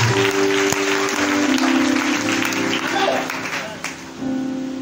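A church congregation claps and applauds in praise during a worship service, a dense, continuous wash of clapping with crowd voices and sustained tones underneath.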